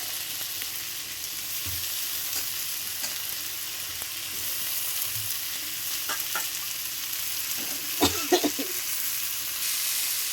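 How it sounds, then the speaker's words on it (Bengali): Raw tomatoes frying in a pan, a steady soft sizzle with occasional scraping clicks of a spoon stirring, a few louder knocks near the end, no talking. "কাঁচা টমেটো দিয়ে ভালো করে নাড়িয়ে নিয়েছি"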